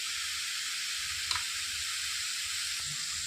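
Cumin seeds drop into hot oil and sizzle, a bright steady hiss with a small clink near 1.3 seconds and soft low stirring bumps beneath, while cooking a phool makhana lotus seed masala curry.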